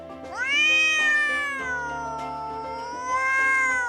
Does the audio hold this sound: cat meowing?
yes